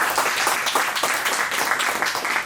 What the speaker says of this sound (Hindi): अमित सर का बहुत बहुत धन्यवाद देना चाहूँगा, एक बार जोरदार ताली बजाइए।